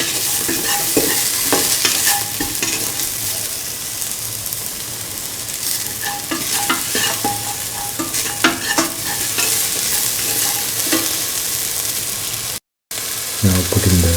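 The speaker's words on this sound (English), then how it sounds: "Saute and mix." Stew ingredients sautéing in a hot pan for a beef, carrot and ivy gourd stew, with continuous loud sizzling and frying plus repeated scraping of a stirring utensil, briefly dropping out near the end.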